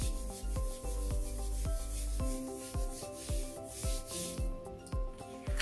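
Paper being rubbed by hand over a folded squish print to press red and other paint through, giving a steady scratchy swishing in repeated near strokes with a faint musical background underneath.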